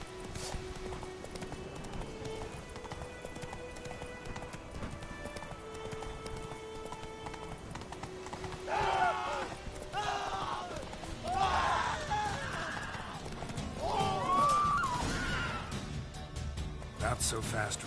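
The video game horse Roach trots with steady clip-clopping hooves under continuous game music and ambience, with a few brief higher whinny-like calls toward the end.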